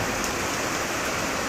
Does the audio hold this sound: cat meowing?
no